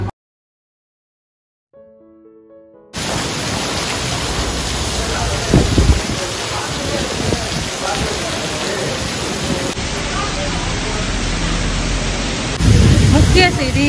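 Heavy rain pours steadily in Singapore, a dense constant wash close by that sets in after a quiet opening and then holds at full strength with slight surges to the end.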